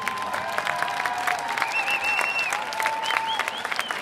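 Audience applause for a violinist at an outdoor Expo 2020 concert at Al Wasl Plaza in Dubai, crowd clapping mixed with cheering and whistles, with faint tonal sounds running over it.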